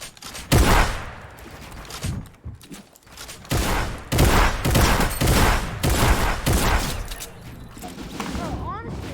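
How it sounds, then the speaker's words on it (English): Video game gunfire crackles in loud bursts and rapid volleys, some shots close and punchy, others more distant, while players talk over the fighting. "everyone's shooting at me"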